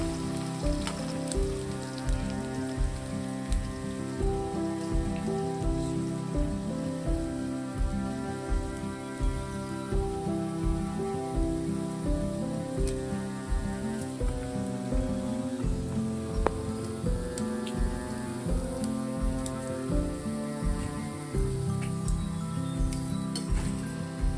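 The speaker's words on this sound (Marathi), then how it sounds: "आणि आता हे गरे बघा असे टाकून घेतले आहेत, छान असे तळून घ्यायचे." Jackfruit pieces deep fry in hot oil in a traditional village-style kitchen, a dense steady bubbling sizzle that runs on without pause, with faint clinks now and then.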